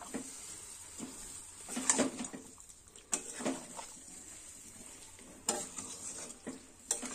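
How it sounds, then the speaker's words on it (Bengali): Chicken and potato curry fries in a pan while a utensil stirs it, with soft sizzling and intermittent scraping and clinking strokes against the pan, fairly quiet and close. "ভালো করে নাড়াতেই থাকবো, হালকা আছে, আস্তে আস্তে এটা হবে।"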